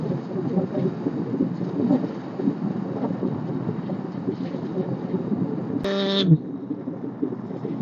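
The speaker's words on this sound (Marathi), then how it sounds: "मस्त मस्त पाऊस पडायला लागलाय. टिपका टिपका" Rain falls with thunder-like rumbling and wind buffeting while travelling in South India among coconut and banana groves, a dense continuous roar interrupted by a brief tonal horn blast near the end.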